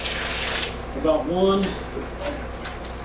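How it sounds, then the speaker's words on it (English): Water poured from a small paint bucket into a mortar or mix, a brief splashing pour heard close up under a speaking voice. "And then we add our water."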